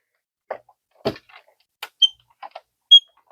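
A squeaky die-cutting machine cranked by hand, giving a handful of separate sharp creaks and high squeals spread out in near silence, close and fairly loud.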